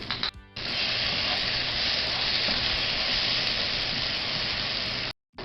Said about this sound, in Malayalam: നമ്മുടെ 1 കിലോ ചിക്കൻ നമുക്ക് ഇതിലേക്ക് ചേർക്കാം